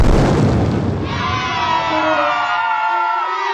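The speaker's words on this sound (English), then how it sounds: "Boom! A beautiful blast." A cartoon blast of magic fire bursts loudly at the start, with a crowd-like cheering roar, then gives way to bright sparkling whistles and shimmering tones that trail off.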